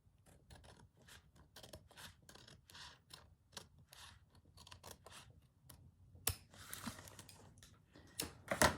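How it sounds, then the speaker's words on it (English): Scissors trim paper for a junk journal in a rapid string of crisp, close snips, with heavier paper rustling and handling near the end. "Just going to trim that off without cutting anything that I shouldn't be cutting."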